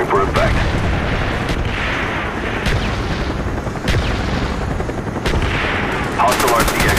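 Dense gunfire and explosions fill a Call of Duty: Black Ops hardcore Headquarters match on the Summit map as an artillery strike lands, with continuous rattling shots and heavy booms, loud and busy under in-game announcer voices.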